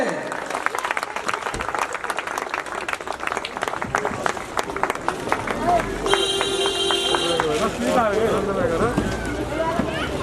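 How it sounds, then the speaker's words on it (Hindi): A gathered crowd claps in a sustained burst of rapid, close applause while voices talk over it throughout. "तालियां तो बजनी चाहिए"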